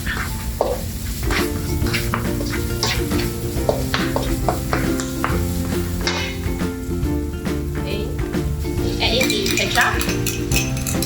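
Raw sugar being stir fried in a pan for chilli crab: continuous loud sizzling with repeated scraping and clinking of a utensil against the pan, steady throughout.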